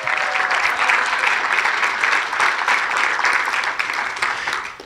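A crowd at a pickleball hall of fame induction ceremony breaks into loud, even applause that holds steady and then tapers off at the very end, with no voices over it.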